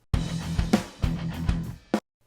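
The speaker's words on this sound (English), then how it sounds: "In this case, I'm using Snare Smack from Drumshotz Joey Sturgis," Snare Smack one-shot snare drum sample from the Drumshotz Joey Sturgis library, several punchy hits about half a second apart, close and dry, ending with a short sharp strike.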